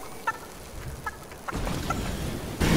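Chicken clucking in the video game Fortnite: a few short, sharp clucks come at intervals, followed by a louder flurry of flapping and rustling toward the end.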